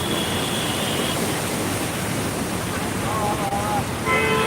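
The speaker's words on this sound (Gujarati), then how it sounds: "અદ્ભુત પાણીનો પ્રવાહ વધી રહ્યો છે આ જગ્યા ઉપર." Floodwater from heavy rain at Junagadh rushes under the Kalva bridge near Motibagh as a steady, dense roar that never lets up, with faint tones drifting over the top.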